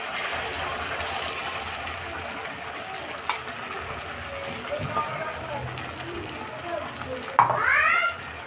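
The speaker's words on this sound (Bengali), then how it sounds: "কালো জিরেটা ফোড়ন দিয়ে এই যে পেস্টটা আপনি বানিয়ে রেখেছি এটা দিয়ে দেব" A spice paste tempered with nigella seeds fries in hot oil, giving a steady soft sizzle with small spatters and the occasional clink of a utensil throughout.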